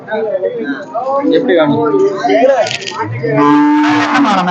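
A cow at a busy cattle market lows loudly and close, its drawn-out moos rising over the crowd's background chatter.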